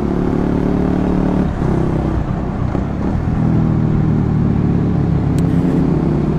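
A KTM Duke 250 single-cylinder motorcycle engine runs with a deep, thumping idle and occasional light revs, close by and continuous.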